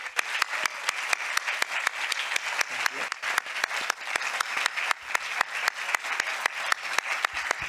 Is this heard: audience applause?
yes